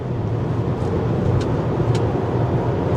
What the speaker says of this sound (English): Now at highway speeds, road noise isn't too bad.